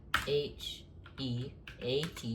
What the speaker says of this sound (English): So just type in cheat help.